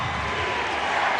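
A basketball arena crowd roars after a Manu Ginobili move in a 2006 Mavericks vs Spurs playoff game, a dense steady wall of cheering, with a commentator's voice faintly mixed in.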